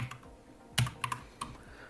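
Several quiet, scattered keystrokes on a computer keyboard, close and isolated, with one sharper tap standing out among light clicks.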